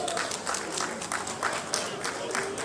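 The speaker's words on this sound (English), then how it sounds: "Please, a round of applause for him, for Dr. Joshola." Audience applause at an alumni awards and reunion dinner following a professional excellence award, continuous clapping from a seated crowd with individual claps popping through and some voices underneath.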